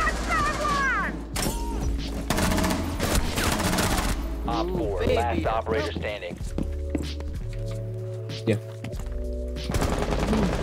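Gunfire from the video game Rainbow Six Siege, with repeated bursts of automatic shots, thuds and footsteps over game music, while a player talks throughout.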